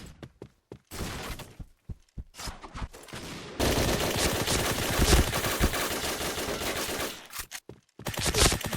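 Sustained automatic fire from a Honey Badger light machine gun in the shooter game Point Blank, loud and close: short stuttering bursts at first, then a long unbroken stream of rapid shots before a brief pause and a final burst.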